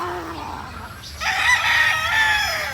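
Game fowl on a farm, with a rooster crowing loudly and close over clucking hens, a bright drawn-out crow rising after a second of quieter calls.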